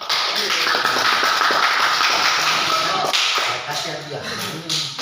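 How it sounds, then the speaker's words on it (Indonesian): Children in a classroom clapping together in a burst of quick, close taps and claps, fading toward the end, with some voices mixed in. "Bagus, tepuk tangan."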